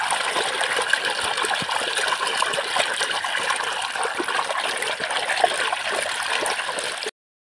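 Water pours steadily from a pump outlet, a continuous close splashing gush with gurgling texture, then cuts off abruptly near the end.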